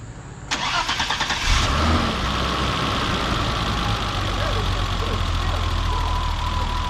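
A BMW E30 325i engine cranks and catches, then settles into a steady, rumbling idle close by, with a brief starter whir at the beginning.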